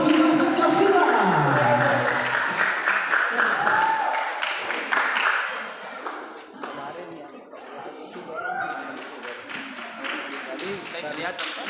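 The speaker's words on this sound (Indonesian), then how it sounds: "mana tepuk tangannya para pendukung dari masing-masing kafilah" Supporters in a hall clap and cheer for the contestants at a women's Fahmil Qur'an final, a dense crowd applause that fades partway through, with an announcer's voice talking over it much of the time.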